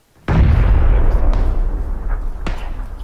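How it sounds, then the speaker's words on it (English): Gunfire in PUBG (PlayerUnknown's Battlegrounds), one loud, close shot or blast that rolls into a sustained rumble, with a second sharper crack a couple of seconds later. "Shit, we're getting shot from that side"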